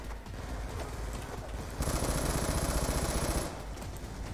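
Rapid machine-gun turret fire in Call of Duty Black Ops 2 rattles out as a dense, loud burst for about a second and a half amid a steady bed of game noise.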